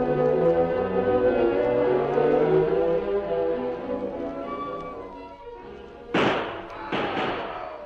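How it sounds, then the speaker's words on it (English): Gunshots in an old time radio Western drama, two sharp bangs near the end that ring out after a stretch of musical score. "3 shots. That means trouble."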